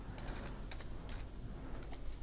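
Computer keyboard being typed on to enter a student's email address, a quiet run of quick, irregular key clicks close by.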